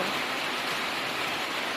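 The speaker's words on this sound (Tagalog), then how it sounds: "Kas pa talaga ang ulan" Steady rain pours down on a rainy afternoon in the countryside, a dense, even hiss that is loud and close and never lets up, with no voices over it.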